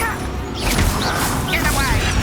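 Incendio fire spell cast during combat in Hogwarts Legacy, a whooshing, crackling burst of flame amid clashing spell effects, with a character's voice shouting over the loud battle.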